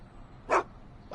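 Einstein the dog barks in a Back to the Future video game, one short, clear bark followed by the start of a second near the end.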